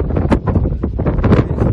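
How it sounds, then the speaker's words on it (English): A strong gale buffets the microphone high in the Pyrenees mountains, roaring in loud, ragged gusts with constant rumbling buffeting and no voices. "It's very windy."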